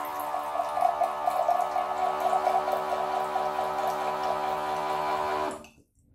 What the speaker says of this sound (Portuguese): Outro ponto negativo é que a bomba emite um pouco de ruído.